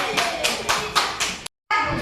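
A class of students claps together in a regular rhythmic pattern of loud bursts, close by, with a voice heard among them and a brief cut to silence near the end.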